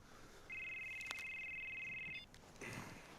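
A telephone rings alone at moderate loudness for about two seconds with a steady electronic tone, then stops, followed by a faint shuffling noise.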